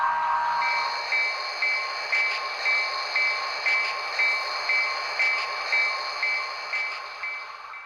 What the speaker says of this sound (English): there goes our eastbound around the curve at Cardigan Junction here, and he's out of here